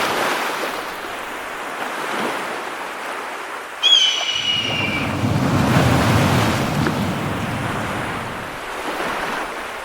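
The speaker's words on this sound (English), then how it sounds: "I added different layers of crashing waves" Layered ocean waves crash and wash in a sound effect, a windy surf hiss that surges into a fuller roar midway, joined by a brief high whistling sweep, then eases back.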